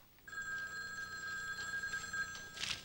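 A telephone bell rings in a sustained trill for over two seconds, fairly faint and alone, with a brief clatter at the end.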